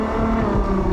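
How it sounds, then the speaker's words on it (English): A 2021 Ferrari 812 GTS engine drones loudly and steadily with the top down, wind rushing over the microphone. "you can hear the engine so much better with the top down"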